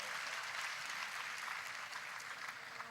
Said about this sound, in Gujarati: એકવાર જોરદાર તાળીથી વધાવો